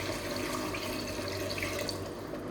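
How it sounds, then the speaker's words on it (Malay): Water poured into a clay pot of prawn curry, a steady close splashing trickle running the whole time with no voices. "sekarang ni kencana nak masukkan sedikit air"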